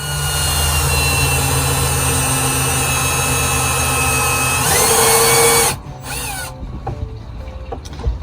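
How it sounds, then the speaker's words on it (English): A power drill whines loudly and steadily up close for several seconds, then cuts off, leaving faint clicks and handling noises. "Drilling your holes, always being careful not to pump it through."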